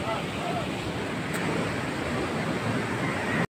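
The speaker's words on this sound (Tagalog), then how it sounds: "dahil sa laki ng alon, yan oh, nakatambay na dito yung dila ng alon dito sa bakod ng aking cottage" Large ocean waves wash up onto a beach and reach the fence of a seaside cottage, making a steady, loud, roaring surf with wind noise on the microphone throughout.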